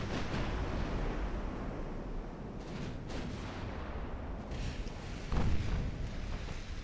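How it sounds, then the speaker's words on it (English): Distant, rumbling booms of 8-inch naval guns opening fire in the video game Ultimate Admiral Dreadnoughts, heard as dull thuds over a constant low roar of battle ambience, one slightly louder blast near the end. "That's the sound of 8-inch guns opening up."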